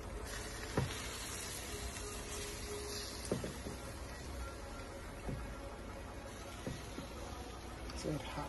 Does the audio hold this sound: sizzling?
yes